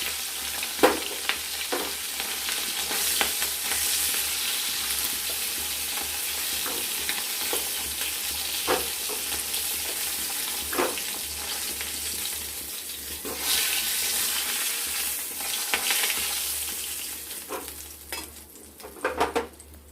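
Hilsa fish head frying in oil in a home kitchen, a continuous loud sizzle with occasional stirring clatters, ebbing and swelling over twenty seconds with no talking.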